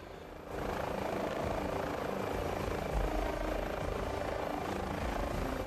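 An H145 helicopter in TOPR rescue service colours runs steadily, a loud, continuous rotor and turbine roar that swells in after a brief quieter start and holds even and close throughout.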